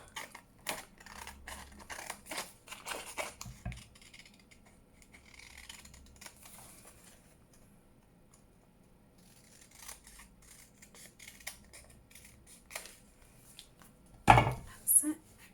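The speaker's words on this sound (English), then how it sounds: "I shall just go around with my scissors." Scissors snip around the edge of pressed paper while making a flower fairy junk-journal piece, a run of quick close crisp cuts, a quiet pause in the middle, then more snipping and a sharp clunk near the end.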